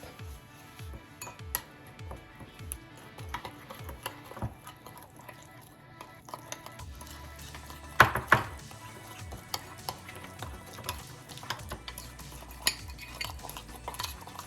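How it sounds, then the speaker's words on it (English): A spoon stirs a spice mix of powdered onion and garlic salt for oven-baked salmon, giving repeated close scraping and clinking strokes against a bowl, with no talking. "and then I'll stir everything up"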